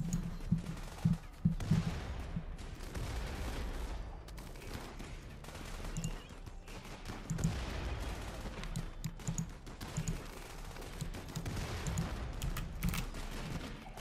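A firefight in RimWorld, with rapid bursts and single gunshots crackling back and forth in irregular volleys for the whole stretch under a low rumble.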